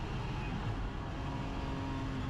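BMW M4 GT4 race car engine pulling hard on the Nordschleife, a loud, steady in-car roar with a sustained high drone held throughout.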